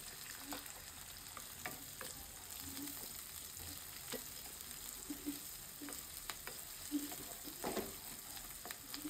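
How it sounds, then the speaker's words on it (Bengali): Onions frying in a pan, heard as a faint, steady sizzle with occasional light stirring clicks spread across the whole stretch, no voices. "পেঁয়াজটা একটু ভেজে নিই"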